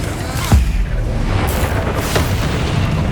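A Bombarda blast spell from the Hogwarts Legacy game, with a loud booming burst near the start followed by a rumbling roar and a second softer thump, with no voices.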